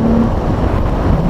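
A Morgan Roadster fitted with a Mustang engine runs under acceleration, a loud, steady engine roar mixed with wind buffeting, heard up close for a brief moment.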